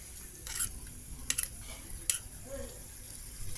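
Dry macaroni tipped into a cooking pot and stirred in, giving soft scraping and clinking of a spoon against the pot with a few brief sharper knocks, quiet and close.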